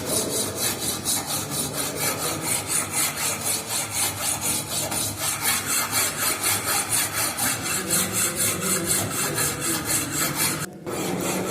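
Rough file rasping back and forth across metal to remove excess material in a fitting shop, a steady rhythmic scraping of repeated strokes that runs close and loud throughout, with a brief break near the end.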